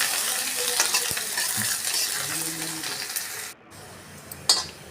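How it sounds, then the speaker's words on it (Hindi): Onions sizzle and crackle in hot oil for a lobia kadhi, with a spoon stirring through the pan and a few faint clinks, close by and continuous. "और प्याज को खूब भुन जाने दें कड़ी के लिए।"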